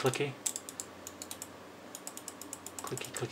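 Attitude One Rapira One computer mouse buttons clicked repeatedly near the microphone, a quick run of sharp, light clicks with brief pauses between bursts, fairly faint, no talking over them.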